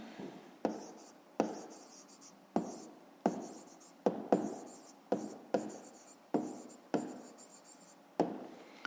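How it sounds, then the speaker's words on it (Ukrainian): A pen scratches out a math answer on paper in a dozen quick, sharp strokes with brief pauses between, close but quiet, with no talking. "Ну що ж, записуємо тоді відповідь."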